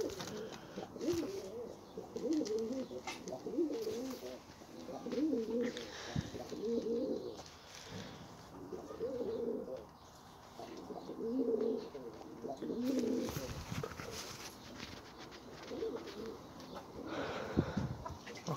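Flying pigeons coo repeatedly in soft, rhythmic phrases close by, with faint rustling and background noise throughout.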